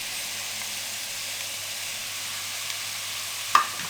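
Spices hit lightly browned onions in a pan over a medium flame, giving a steady, even sizzle and hiss that runs throughout, with one brief clink near the end.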